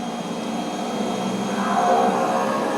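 A propeller pulled into beta in the X-Plane flight simulator gives a steady, close mechanical drone with a faint tonal whine that swells slightly toward the end, with no talking.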